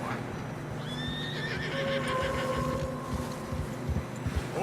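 A horse in Red Dead Redemption 2 whinnies loudly over steady wind, with clopping hooves and soft snorting underneath, on a narrow snowy trail.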